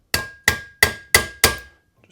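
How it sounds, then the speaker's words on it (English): Hammer tapping a small aluminum tool against the valves of a four-stroke engine head: five sharp, ringing metallic taps at a steady pace, close and loud, each with a brief decay, alone without speech. "I've got a little aluminum tool here. I'm just going to hit it with a hammer a little bit."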